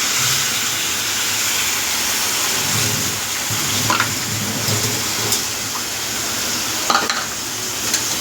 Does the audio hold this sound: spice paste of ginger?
yes